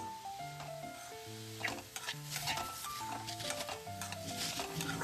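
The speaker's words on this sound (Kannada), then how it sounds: "ಸೊ ಇದನ್ನ ಕಂಪ್ಲೀಟ್ ಆಗಿ ಫ್ರೈ ಮಾಡ್ಕೊಳ್ಳೋಣ" Cabbage and capsicum fry in a pan with a faint sizzle and light stirring scrapes, nearly buried under loud melodic background music.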